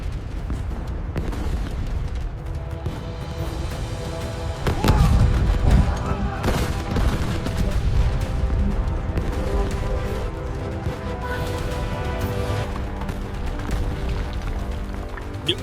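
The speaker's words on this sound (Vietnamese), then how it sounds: "Pháo binh triều đình đồng loạt khai hỏa, long trời lở đất." Imperial cannons of 1833 Vietnam fire together in a dramatized battle, with deep booms and blasts rising over a continuous low roar and a dense, rumbling bombardment throughout.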